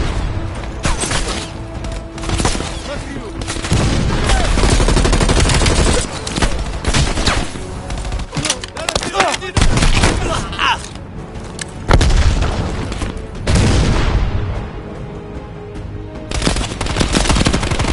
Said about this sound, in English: Orders confirmed. Bombing strike imminent.